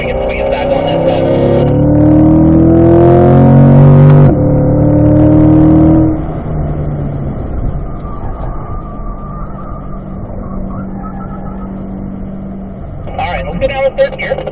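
Car at a driving school on a race track, engine revving loudly under throttle then shifting from third to fourth gear with a drop in pitch, while an instructor talks over the steady engine drone.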